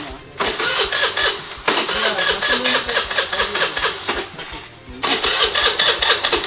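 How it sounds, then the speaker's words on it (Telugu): A small engine on a large homemade toy train starts up and runs with a steady, buzzing mechanical drone, cutting out briefly twice before catching again, loud and close. "ఇంజన్ స్టార్ట్ చేద్దామని చూస్తే"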